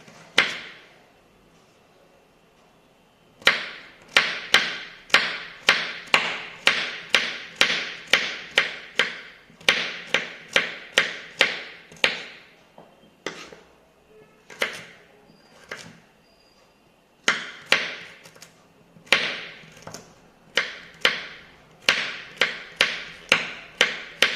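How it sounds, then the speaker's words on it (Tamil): A knife chops carrots on a cutting board for a chickpea salad, a quick run of sharp, evenly spaced strikes in bursts with short pauses between, close and crisp with no talking. "சாப் பண்ணிக்க போகிறோம்."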